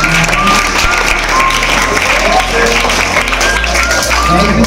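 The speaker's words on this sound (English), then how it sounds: "So clap for them once again." An audience claps for event participants in a loud, continuous patter, with a low steady hum and some faint crowd noise beneath the clapping.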